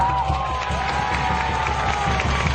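A crowd applauding and cheering steadily throughout, a dense wash of clapping with a few voices rising over it.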